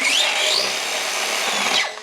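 A cheap 4S RC basher car's electric motor run at full throttle, a loud, continuous high-pitched whine that holds steady and then winds down near the end.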